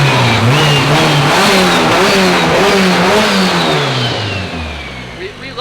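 A turbocharged four-cylinder K-series engine in an FRS car revs loud and close, its pitch sweeping up and down through several rises before easing off toward the end.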